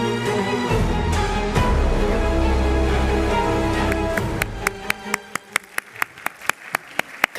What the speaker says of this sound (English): Morla claps.